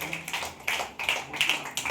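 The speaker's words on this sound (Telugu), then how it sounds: "గట్టిగా కొట్టండి పిల్లలు" Children clap together at a Sunday school camp, short ragged bursts of hand claps rising and falling in quick waves, fairly close.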